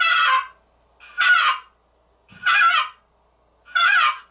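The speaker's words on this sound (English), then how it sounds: "Sometimes I'll do a purr and a cluck with it." A wooden turkey box call scraped by hand makes four separate raspy, hen-like yelps and clucks, spaced roughly a second apart, close and loud with silence between.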